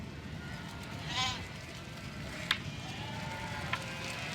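Sheep and lambs bleat on salt meadows in Picardy, one clear bleat followed by a couple of fainter distant calls over a steady outdoor background.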